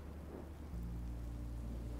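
Steady rain hiss in Minecraft: Story Mode with a low, continuous rumble of thunder swelling in partway through, no voices.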